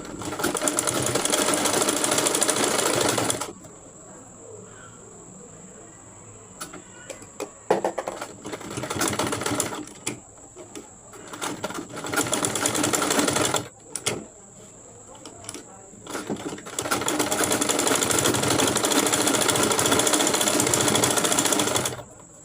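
A sewing machine runs in loud steady bursts while stitching fabric for a spiral turban cap, stopping and starting several times with quiet gaps between runs.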